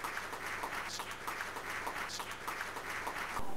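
Audience applause at an entrepreneurship summit in Nigeria: steady, moderately faint clapping from a crowd, a continuous patter with some sharper claps, holding level throughout.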